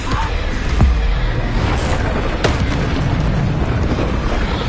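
Spell blasts in the Hogwarts Legacy video game make dense, loud, continuous rumbling booms with sharper bursts layered throughout, with no quiet gaps.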